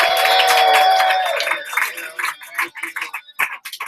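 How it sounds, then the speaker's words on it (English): Comedy club audience applauding and cheering for the next comedian, a dense wash of clapping that fades into scattered claps and a few whoops near the mic. "let's have a nice big warm round of applause for Cameron Benitez"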